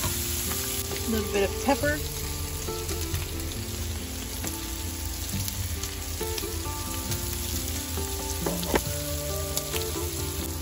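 Food simmering in a pan on a stove in a van, a dense, steady sizzle and crackle running throughout with occasional clinks, while someone speaks briefly over it.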